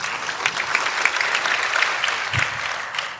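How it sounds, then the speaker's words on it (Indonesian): A hall of student council leaders in Jakarta clapping together, a brisk crowd applause with a few sharper individual claps standing out, steady for a few seconds. "Tepuk tangan gitu."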